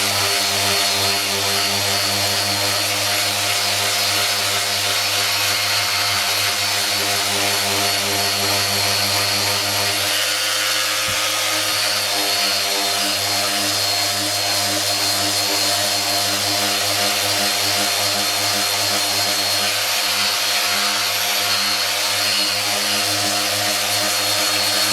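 Power sander working on a Honda motorcycle part during restoration, giving a steady, loud whine and buzz that runs continuously with a brief dip in the middle.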